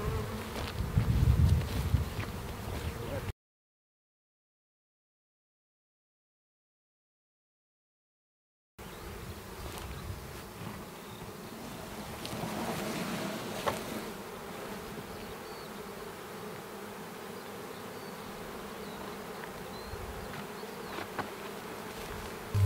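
Honeybees from an opened hive colony buzz steadily around the listener, a dense droning hum mixed with closer passing buzzes. A stretch of complete silence breaks the sound early on.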